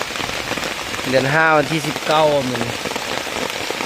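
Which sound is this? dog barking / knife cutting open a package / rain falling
rain falling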